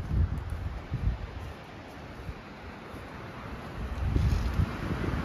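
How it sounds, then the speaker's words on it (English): Strong wind sweeping across an outdoor campsite, a continuous rough roar with buffeting gusts that swell louder near the end, close and unbroken, with no one speaking. "but it's windy as fuck"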